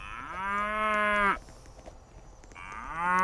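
Cows moo in a video game stage, two long, loud, close moos separated by a quiet gap, each with a steady drawn-out tone and an abrupt end, over faint background noise.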